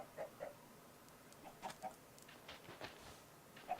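Faint, scattered clucking from chickens in Minecraft (Feed The Beast modpack), with short irregular calls in an otherwise quiet background.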